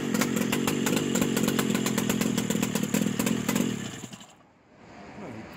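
An RMZ-500 engine on an airboat fires up and runs with a loud, rapid two-stroke rattle for several seconds, then cuts out and falls quiet.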